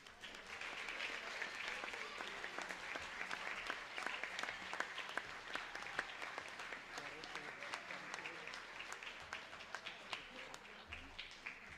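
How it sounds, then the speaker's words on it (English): Steady applause from an audience fills a middle school awards ceremony, a continuous dense clapping that holds evenly for about twelve seconds. "Another round of applause for our 7th graders."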